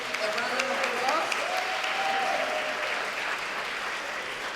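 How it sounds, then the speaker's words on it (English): An audience at a community forum on immigration enforcement and deportation claps in a steady, sustained round of applause, with a faint voice briefly audible beneath the clapping. "Give them a round of applause."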